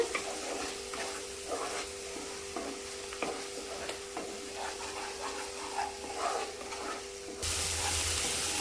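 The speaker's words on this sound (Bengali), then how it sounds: "এবার আমি মশলাটা ভালো করে কষিয়ে নেব। মশলাটাকে ভালো করে কষিয়ে নিতে হবে যতক্ষণ না তেল ছাড়ছে।" Masala spice paste for a Bengali-style egg curry fries in oil in a pan, a soft continuous sizzle with light scrapes and stirs, quiet and close, without any talk.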